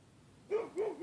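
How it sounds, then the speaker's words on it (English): A dog barks twice indoors at moderate distance, two short separate yelps of the same kind after a quiet start. "we've got a dog barking"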